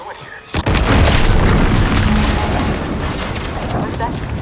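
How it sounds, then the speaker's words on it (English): A deep, booming explosion erupts suddenly in the sci-fi video game The Outer Worlds 2, followed by a sustained roaring rumble that slowly fades. "What's that? An explosion?"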